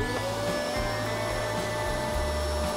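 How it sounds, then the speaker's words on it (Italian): A vacuum cleaner runs steadily aboard a sailboat, a loud continuous motor whine with a high-pitched tonal hum throughout, alone without talk. "Versiamo il sale, lo zucchero, qualsiasi cosa a bordo e possiamo utilizzare un aspirapolvere"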